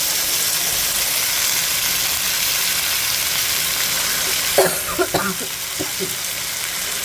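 Raw banana pieces crackle in hot oil in a pan, a steady dense sizzle throughout with a few sharper pops and spatters near the end as the pieces go in.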